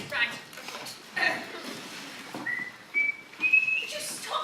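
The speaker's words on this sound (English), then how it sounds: "Would you stop that whistling," A person whistles a short melodic tune on stage during a performance of The 39 Steps, clear tones rising in a few phrases, with soft talking and rustling in between.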